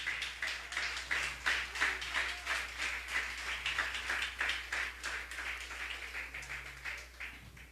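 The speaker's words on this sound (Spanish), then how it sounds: "Aplauda al Señor, mis amados." A church congregation applauding during a worship service, a sustained run of rhythmic, steady clapping at moderate distance that carries on for several seconds and fades slightly toward the end.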